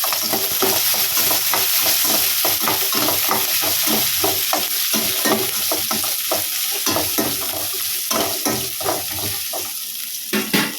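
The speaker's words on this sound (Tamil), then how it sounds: "கூடவே ஒரு பாதி அளவு வெங்காயம் சேர்த்து வதக்கிக்கலாம்." Onion sautéing with golden roasted coconut in a pan for a Kerala chicken curry, with a steady sizzle and repeated quick clatters and scrapes of stirring, close and busy throughout, no voices.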